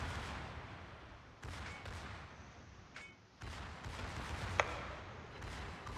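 Secondary guns of a Yamato battleship firing in a naval video game, a dense, continuous rumble of shots and impacts with one sharp louder crack near the end, and no talking over it.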